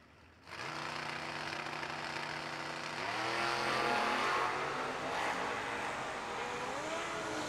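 A 1987 S10 pickup truck and a Malibu launch down a drag strip, their engines rising from idle into a loud sustained roar with shifting pitch, heard from trackside with broad crowd-area noise.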